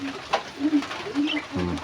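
Pet pigeons or doves coo and call softly near a riverbank while feeding in the morning, the short calls repeating close by over faint background sounds.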